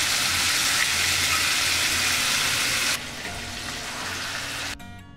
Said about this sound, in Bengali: তার মধ্যে মাংসগুলো দিয়ে সুন্দর করে আস্তে করে ভেজে দিই।